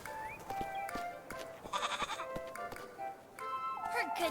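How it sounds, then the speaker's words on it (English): A goat bleats in the video game Little Goody Two Shoes, several faint, wavering cries over a soft musical background, with no talk. "You and that goat of yours, Rosamarine."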